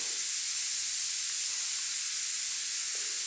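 Hot oil tempering of urad dal, chilli, cumin, asafoetida and curry leaves: a steady, loud, even sizzling hiss that runs unbroken, with no voices.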